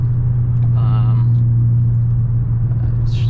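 A manual-swapped Mercedes E55 AMG cruises along, its steady low engine and road rumble filling the cabin from start to finish, with a brief voice-like sound near the start.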